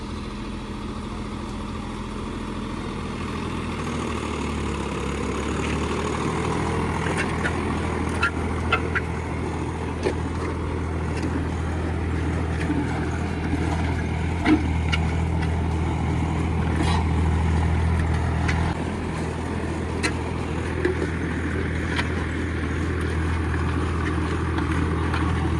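A Farmtrac 50 tractor engine running in high range first gear at about 1600 rpm, giving a steady, continuous low drone with a constant pitch throughout.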